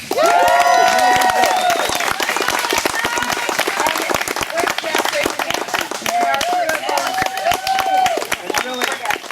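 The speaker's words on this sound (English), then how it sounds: "How about a big round of applause for Alyssa?" A crowd at a morning charity presentation gives a volunteer a big round of applause, loud and close, with sustained clapping and some cheering and voices woven through it.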